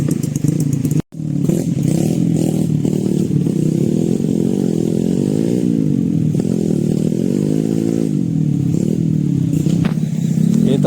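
A motorcycle grinds along in first gear on a slippery dirt road with no brakes used, a loud close engine drone that rises and falls in pitch, broken by a brief cutout near the start.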